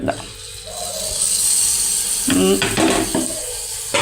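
Ground curry paste hits a hot pan for a fish curry, a broad steady sizzle with stirring clatters and scraping near the end.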